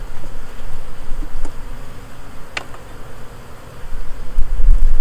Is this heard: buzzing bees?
yes